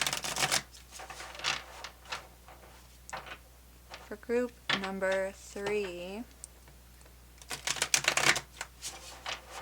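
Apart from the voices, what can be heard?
shuffling a tarot card deck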